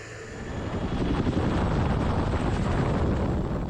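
An Airbus H125 helicopter flies during a wildfire-fighting Bambi bucket drop, producing a steady, broad rotor-and-engine roar that swells over the first second and then holds loud and even, with no voices.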